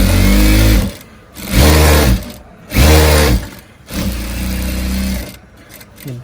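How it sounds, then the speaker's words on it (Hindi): A tailor's sewing machine stitches a waistcoat bag in four close, loud bursts of whirring, each run starting and stopping with short pauses between them. "आप ये देखें कि ये सिलाई का प्रोसेस शुरू हो रहा है"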